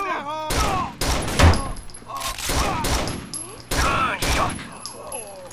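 Bursts of gunfire in the video game Rainbow Six Vegas, loud and close, several sharp volleys spread across the stretch with voices shouting between them.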